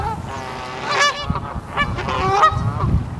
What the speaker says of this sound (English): or at least some of the goddamn fucking ducks